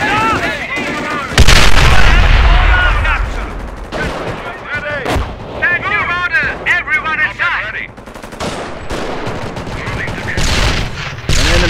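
In the Company of Heroes Europe at War mod, butterfly bombs fall amid loud booming artillery and machine-gun bursts, a heavy continuous barrage with whistling tones over it and voices calling out between blasts.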